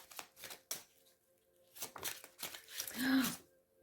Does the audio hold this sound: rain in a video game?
no